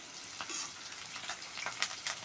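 Cumin tempering sizzles and crackles in hot oil in a pan while goat tripe curry is being made, a quiet, close frying hiss with scattered small pops and stirring scrapes.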